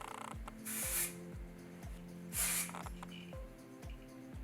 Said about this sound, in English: Just spray it at the roots.